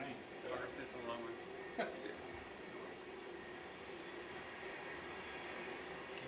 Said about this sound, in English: It's a really long train.